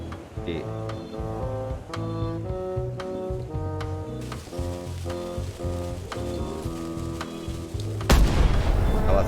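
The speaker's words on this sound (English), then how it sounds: "Ready for cannon firing." Ship cannons firing in Return to Monkey Island, with sharp repeated booms spaced over cheerful game music and a final louder broadband blast near the end.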